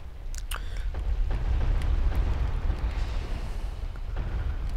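Giant balls rolling past in the video game Dark Souls: a heavy, continuous low rumble that swells and fades, with a few sharp knocks and clacks early on.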